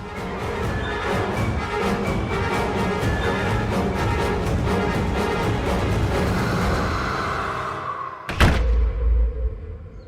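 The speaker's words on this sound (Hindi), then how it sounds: "दरवाजा बंद कर देना।" A door is pulled shut inside a home, landing as one heavy, close thud near the end after a long stretch of steady background sound.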